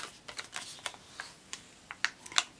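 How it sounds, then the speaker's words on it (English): Siser EasyWeed heat transfer vinyl peeled back from its carrier during weeding for spirit wear, giving a string of soft, close crackly ticks and small snaps with a couple of sharper pops near the end. "I like to just kind of get a corner started and then peel it back."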